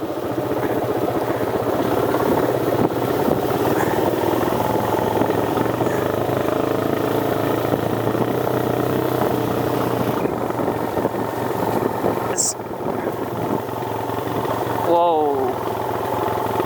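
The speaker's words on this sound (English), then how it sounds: "so we'll go on the motorbike instead" Motorbike engine running steadily while riding down a steep road in La Union, Philippines, a continuous mid-pitched drone with wind noise, under occasional talk from the rider.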